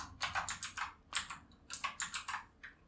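Code is typed on a computer keyboard in quick rhythmic bursts of close, crisp key clicks, with short pauses between groups.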